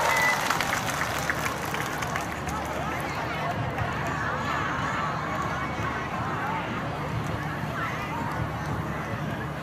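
A large crowd at a Vesak festival performance applauds warmly to welcome a singer, a dense, steady patter of clapping lasting the whole stretch, with some voices mixed in.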